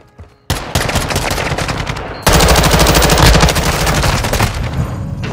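Rapid automatic gunfire from Call of Duty Modern Warfare II erupts after a brief quiet start, running as a dense, continuous loud burst that grows heavier partway through and keeps rattling to the end.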